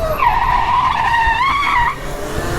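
Tires of a modified Rizzler bike skid and squeal while drifting, a loud warbling screech that holds steady for nearly two seconds over engine rumble, then cuts off abruptly.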